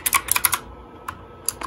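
Keys clack on a gaming keyboard in a quick burst of close, crisp strokes, then pause and return as a few scattered presses.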